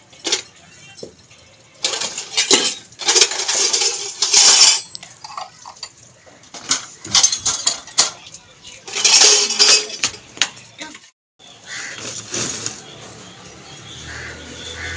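Freshly washed dishes and utensils are set onto a drying rack in a Pakistani family home, with close, bright clinks, clatters and metallic jangles coming in irregular bursts separated by short quiet gaps.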